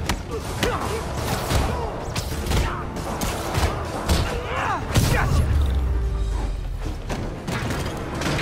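Rocket explosions in the Marvel's Spider-Man video game, a rapid series of heavy thuds and booms with mechanical clatter and debris, loud and close, with shouting voices mixed in.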